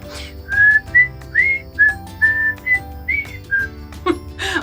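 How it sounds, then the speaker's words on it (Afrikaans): Someone whistles a lively tune in clear, close, bright notes, about ten short phrases with small gaps between them, and no talking. "het julle gehoor hoe lekker het hy gefluit?"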